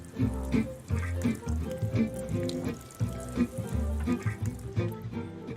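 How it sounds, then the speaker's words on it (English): Water from above patters steadily onto seeds sown in a garden seed tray, a continuous close splashing over a low tonal background. "With this, I'm going to water from the top."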